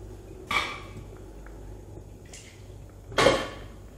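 A metal lid set onto a pot of simmering kambu (pearl millet) porridge in a pressure cooker, giving two short clanks a few seconds apart, the second louder, over a quiet kitchen background.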